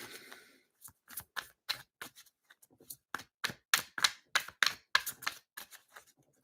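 A deck of playing cards is shuffled by hand close up, a rapid series of crisp riffling snaps and flicks in quick uneven bursts, with no talking.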